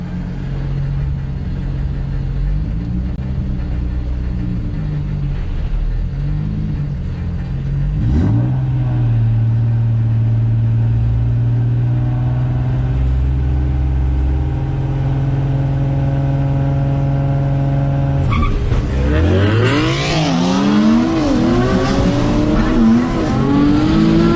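A turbocharged Nissan 350Z idles loudly up close, then rips into a hard dig launch. Its engine revs climb steeply, tire squeal rises over a roaring exhaust, and a second burst of acceleration follows. No one talks.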